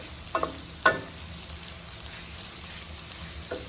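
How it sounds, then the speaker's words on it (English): Spice paste and powders cooking in a pan for a Caribbean salt fish dish, a soft continuous sizzle with a few scraping stirs near the start and end. "I'm just going to allow my paste and my powders to cook"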